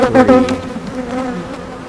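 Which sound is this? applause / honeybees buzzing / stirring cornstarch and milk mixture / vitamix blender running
honeybees buzzing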